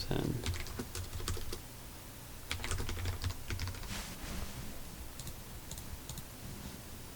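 Close keyboard typing of text into a database form, bursts of rapid clicky keystrokes separated by brief pauses, with a steady background hum and a voice speaking over part of it.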